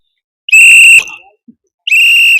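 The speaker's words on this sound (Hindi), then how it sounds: "इसलिए सीटी बजाओ, सीटी, ये सीटी कमाल करेगी।" Shrill whistle blown twice at close range, two loud steady high-pitched blasts about half a second each, separated by a short gap with no talk.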